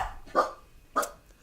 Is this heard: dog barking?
yes